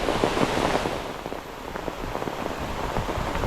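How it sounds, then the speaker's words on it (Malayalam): Heavy rain pours steadily near a river and sea in a continuous dense hiss, with scattered sharper drops pattering on surfaces and no voices. "നാട്ടിലെ നല്ല തകർപ്പൻ മഴ കണ്ടോ"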